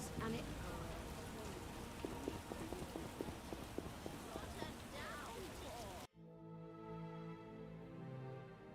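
Steady rain in The Witcher video game hisses and patters loudly for several seconds, with faint rhythmic clopping beneath, before abruptly switching to a quieter tonal background.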